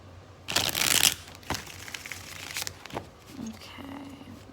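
A deck of cards is riffled in a loud burst, followed by softer shuffling and handling noises, with faint background sounds.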